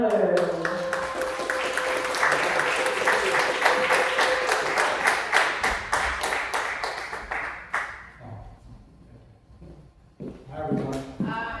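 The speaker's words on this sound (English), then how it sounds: "Please give a round of applause for Reggie Miller." An audience at a Thirsty Thursdays Rendez Vous Chic event applauds Reggie Miller with a room full of brisk clapping that gradually thins and fades out, followed by a few scattered claps and talking near the end.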